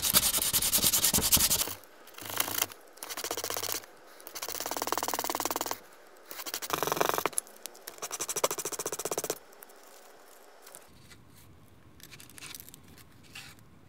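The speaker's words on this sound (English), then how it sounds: "we're going to sand the ends of each one so that they're tapered and they get really thin" Wood ends of a bentwood ring being sanded in repeated bursts of rough rasping strokes, close and loud, separated by short pauses and fading to faint noise at the end, no talk.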